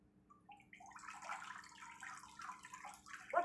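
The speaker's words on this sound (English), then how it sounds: "You notice that the water just run over the broccoli like an umbrella" Tap water running steadily over broccoli being washed in a sink, a soft continuous splashing stream that swells slightly toward the end, with no voices.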